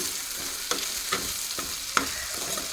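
Okra (bhindi) sizzles steadily in a pan while a spatula stirs it, with a few sharp scrapes and clicks standing out over the continuous frying hiss; no one speaks.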